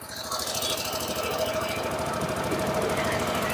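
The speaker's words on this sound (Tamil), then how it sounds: "இப்போ நம்ம வந்து ஸ்டார்ட் பண்ணி பார்க்கலாம். பாருங்க, ஐலிங் கரெக்டாக ஓடுது." A Suzuki Access 125 scooter engine idles steadily after a sensor repair, a fast, even mechanical patter held close and loud throughout with no break.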